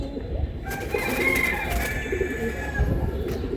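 Racer pigeons in a pen coo in soft, repeated calls over a busy background of rustling and low noise, with no clear talking.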